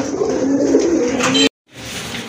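A male khoira-necked pigeon coos close by, a low throaty rolling call lasting about a second and a half, cut off sharply, then faint room noise resumes.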